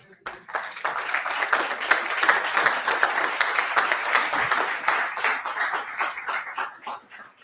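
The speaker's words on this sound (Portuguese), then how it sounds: "Dê um aplauso a Jesus" A congregation at a church service breaks into sustained applause: dense, close clapping that swells quickly, stays full for several seconds, then gradually thins, with a voice faintly audible over it.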